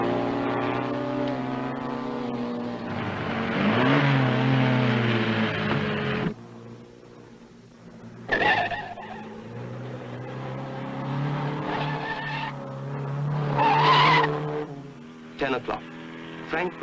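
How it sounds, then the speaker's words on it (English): A rally car speeds over the Col du Granier mountain pass during the 1958 Coupe des Alpes, its engine droning and revving up and down with sudden cuts, while someone narrates over it. "Although he's lost his cup, Ivor Bueb's driving as though he were at Le Mans"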